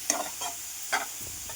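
Carrots sauté in ghee for halwa, with a faint hiss and a few quick scraping stirs of the pan, close and fairly quiet.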